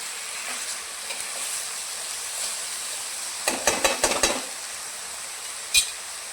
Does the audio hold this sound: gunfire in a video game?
no